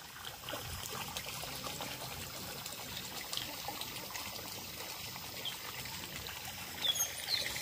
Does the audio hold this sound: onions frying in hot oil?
no